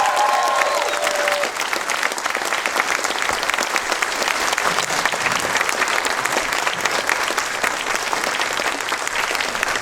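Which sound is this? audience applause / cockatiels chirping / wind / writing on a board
audience applause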